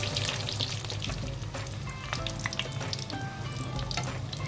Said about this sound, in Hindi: तेल में एक एक करके हम इसको फ्राई करेंगे। डीप फ्राई होगा ये।